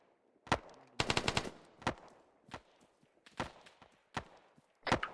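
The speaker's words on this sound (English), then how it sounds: "Delta, put out suppress fire." Bursts of suppressive gunfire during platoon infantry training, with single sharp shots and one rapid string of about six rounds, spaced irregularly and fairly distant, with no voices.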